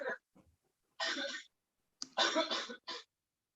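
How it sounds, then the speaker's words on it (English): Someone coughs and clears their throat indoors in a quiet room: a brief bout of a few short, dry coughs in two clusters, close and fairly soft, with no talking. "Yes, coughing."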